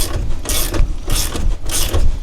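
A pass-through ratchet works the strut top nut on a 2022+ Subaru WRX strut. It gives three loud, close bursts of rapid clicking, evenly spaced and separated by short pauses.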